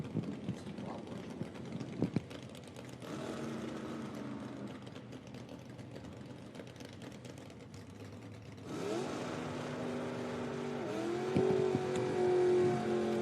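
IHRA drag racing cars run down the track at National Trail Raceway during the SpringNationals, a steady distant engine drone that swells louder with rising pitch toward the end.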